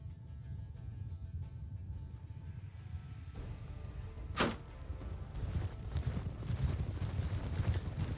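Heavy cavalry horses gallop across a medieval battlefield in Mount & Blade II: Bannerlord, a steady dense rumble of hoofbeats with one sharp clattering hit midway.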